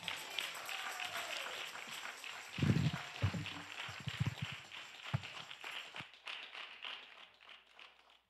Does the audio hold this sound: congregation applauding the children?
yes